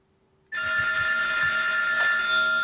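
A mobile phone in a real estate office starts ringing abruptly after a brief quiet moment, a loud, steady electronic ringtone sounding close by.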